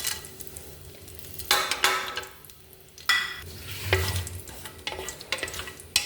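Cinnamon and cloves sizzle in hot ghee in a pressure cooker, with two sharp bursts of frying crackle as the spices drop in, then a steady soft hiss, stirring and light clinks from the pot.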